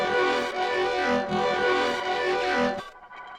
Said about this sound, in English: I'm running a parallel with EFX Motions, this Make It Full of Stars preset.